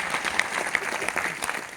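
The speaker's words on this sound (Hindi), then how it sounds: "पर ताली बजा दीजिए।" Audience in a meeting hall claps together, a dense steady patter of many hands lasting under two seconds, fairly loud and continuous with no voices over it.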